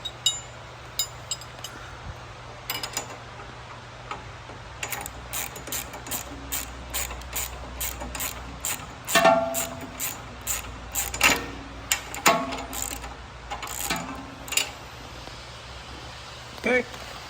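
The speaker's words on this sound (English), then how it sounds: "tighten this other one up a little bit." Rapid clicking of a ratchet wrench tightening a bolt while assembling a Farm-Maxx FDM drum mower, repeated bursts of ticks at close range with steady background noise.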